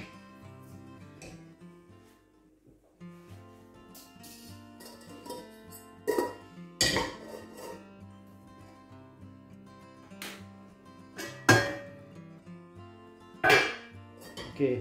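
Cooked spaghetti lifted off the stove and strained for meatballs in tomato sauce, with scattered metallic clanks and knocks of a pot and utensils over a low, steady background, a few sharp louder clatters standing out.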